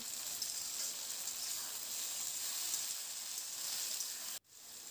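Spring onions and freshly chopped tomato sizzle steadily in a hot pan, a dense, even crackle and hiss that carries on alone with no voices, then breaks off in a sudden short dropout near the end.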